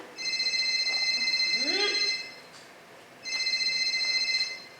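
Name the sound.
mobile phone ringing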